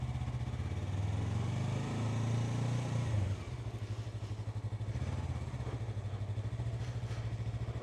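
A Yamaha R3 motorcycle with 9,000 km on it runs nearby, a steady engine note that drops after a few seconds into a pulsing, uneven idle-like throb as the rider sets off.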